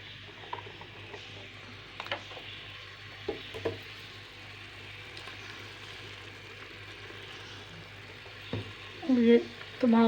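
Boiled meat with onion, garlic, turmeric and salt fries in oil in a pot, giving a soft, steady sizzle with occasional stirring clinks and scrapes. A few voices or kitchen sounds break in briefly near the end.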